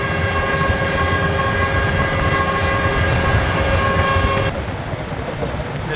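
A train rolls through the Cambodian countryside between Phnom Penh and the southern coast, a loud continuous rumble with steady tonal whine and rattling carriage noise, dropping slightly in level near the end.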